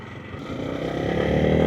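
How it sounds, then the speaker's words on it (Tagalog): Motorcycle riding toward a highway on a rural nature road, engine droning steadily and rising slightly in pitch and loudness as it accelerates, close and continuous with no talking. "Kayang-kaya naman ng motor."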